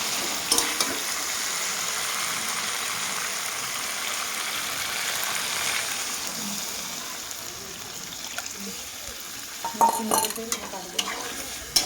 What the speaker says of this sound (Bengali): কষার জন্য আমি অল্প জল দিয়ে দেবো, মশলা ধোয়া জলটা।